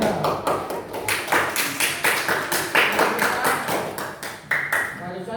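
A fifth-grade classroom claps for a student group, sharp hand claps landing in a steady, fairly quick rhythm. The sound is moderately loud and close, continuing without a break.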